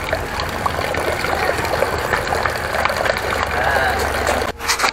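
Hot soaking water being poured off dried fish, a continuous splashing, trickling gush of liquid heard close up, ending abruptly near the end.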